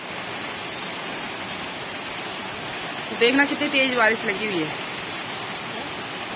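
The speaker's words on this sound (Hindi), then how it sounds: "देखना कितनी तेज बारिश लगी हुई" Heavy rain pours steadily as a constant dense hiss, with a voice talking briefly over it partway through.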